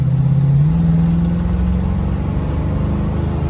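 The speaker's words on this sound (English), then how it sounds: "Sounds very good coming out the back, and I believe it comes from straight pipes." A 1971 Ford Mustang with a 429 engine accelerates on a main road through straight pipes, a loud deep exhaust roar that climbs in pitch and then settles into a steady drone.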